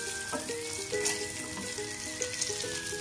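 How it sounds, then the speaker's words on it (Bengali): Steady crackling sizzle of eggs frying in hot oil runs throughout, with faint clinks and a thin background tone over the sputter. "তো ডিমগুলোকেও ভালো করে আমরা ভেজে নেবো।"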